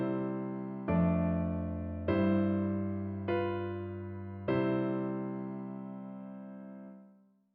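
Sustained chords in a functional dominant-to-tonic progression, four separate struck chords ringing warmly one after another and then fading out, played softly and alone.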